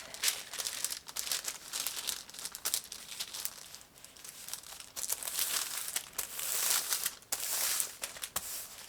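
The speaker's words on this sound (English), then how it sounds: "And then folding my paper from here to along this line, and then I'll have to fold it again for this half since it is bent." Sheets of sewing pattern paper being folded and creased while drafting a two-piece coat sleeve, producing close, continuous crinkling and rustling with sharper crackles, no voices.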